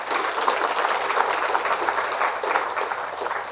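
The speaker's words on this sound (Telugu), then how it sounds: "చప్పట్లు కొడతాం గట్టిగా ఆయనకి." Audience applause, a dense, steady burst of many hands clapping together, loud and even throughout with no voices standing out.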